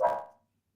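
A dog barks once somewhere in a home during a football preview conversation, a single moderately loud bark that quickly fades into silence.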